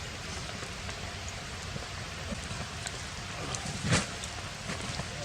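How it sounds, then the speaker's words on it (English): Light rain falls steadily during a winter overnight camp, a soft continuous patter with one brief louder rustle near the end, no voices. "It's not raining a whole lot"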